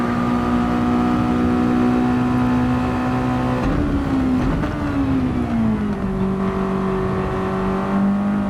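Mazda MX5 engine in a Gran Turismo 7 race at Road Atlanta, holding a loud steady whine in third gear, briefly dipping and shifting pitch midway before settling again, close and continuous with no speech.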